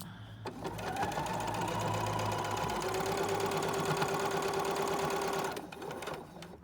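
A sewing machine runs steadily for several seconds while stitching forward and then in reverse on a fleece hat, with a close, even mechanical whir that starts and stops abruptly.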